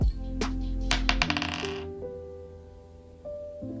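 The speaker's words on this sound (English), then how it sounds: "So we're gonna roll this dice." A single die rattles and clatters close by as it tumbles onto a hard surface, with several quick impacts that ring briefly and fade.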